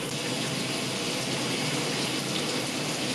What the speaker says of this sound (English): I rinse it a lot.